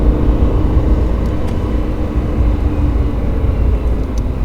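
A Lamborghini Huracan accelerates on a race circuit, a loud, steady, low engine roar heard close from inside the car, with no pauses or talk.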